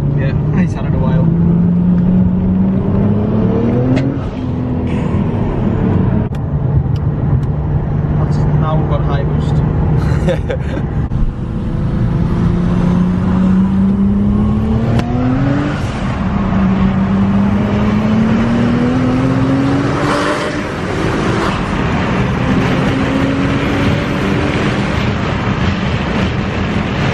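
A car engine runs and revs in steady rising sweeps that repeat across the clip, loud and close, while people talk over it.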